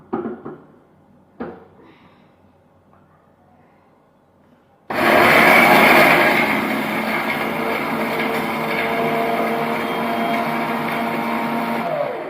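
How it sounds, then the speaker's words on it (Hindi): An electric kitchen grinder pulverises dried red chillies, starting abruptly after a few quiet knocks and running as a loud, steady, high-pitched whirring roar to the end. "तो थोड़ा मैं लाल मिर्च भी पीस के रख लेती हूँ"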